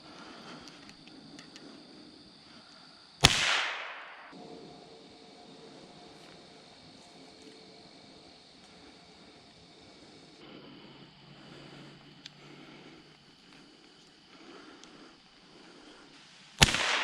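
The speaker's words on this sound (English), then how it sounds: "Alright, the gun works." Two sharp gunshots ring out during a squirrel hunt in Michigan woods, one a few seconds in and another near the end, each loud and sudden with a brief echoing tail over quiet outdoor ambience.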